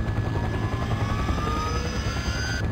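A modded helicopter in Farming Simulator 15 drones loudly and steadily with a continuous rotor thrum and a high whining turbine tone that slowly shifts in pitch.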